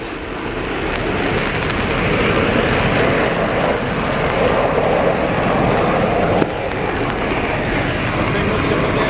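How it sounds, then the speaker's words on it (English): Steady rain hisses continuously in a broad wash of noise at the RIAT air show in Fairford, with a faint voice somewhere underneath and one brief sharp knock partway through. "It's raining there"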